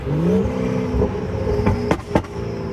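A tuned stage 2 BMW 540i with the B58 engine revs at night, its engine note rising then settling while a sharp turbo whoosh and flutter bursts twice near the end, heard from inside the car, moderately loud.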